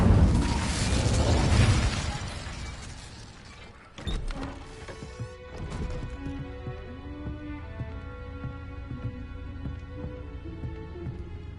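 A fire spell cast in Hogwarts Legacy: a loud rushing, crackling burst that fades over a few seconds, followed by a shattering crash and lingering tinkling, ringing debris with game music beneath.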